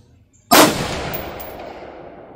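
A rifle fires a single AAC 77-grain open tip match 5.56x45 NATO round over a chronograph at a range: one sharp, loud crack with a long reverberant tail fading over the next two seconds, and no talk.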